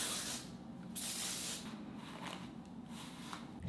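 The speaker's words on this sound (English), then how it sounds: "I'm going to spray some hairspray." Way Soft hairspray misted onto hair in a steady aerosol hiss lasting several seconds, with brief pauses and short bursts, close and fairly quiet, no talking.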